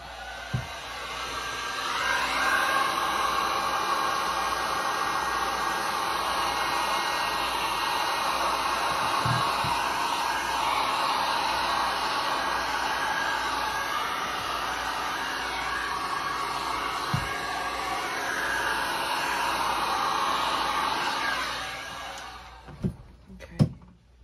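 Heat tool blows hot air over poured resin in a dustpan geode mold, a steady broadband whoosh lasting about twenty seconds at close range before cutting off, with a few faint knocks.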